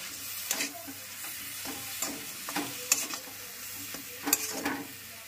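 Cabbage patty mixture is stirred in a bowl with an utensil, giving a series of soft scraping, clattering strokes at an uneven rhythm, close and moderately quiet, with no voices.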